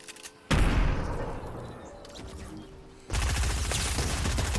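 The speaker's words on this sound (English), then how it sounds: "He shot his gun." Sudden loud burst of gunfire from a Fortnite AR, a sustained rattling volley that tapers off, then a second loud burst resumes near the end.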